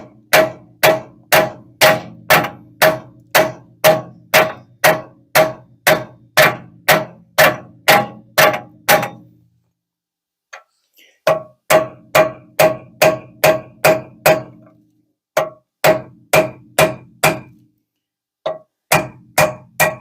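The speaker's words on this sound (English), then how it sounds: "I'll start with a small sledgehammer, and then I'm going to use a directed extension so that I can pound it through." A small sledgehammer pounds on the rear wheel hub of a BMW X5 E70 during a wheel bearing replacement. Dozens of steady, evenly spaced metallic blows ring out loud and close, with a few short pauses.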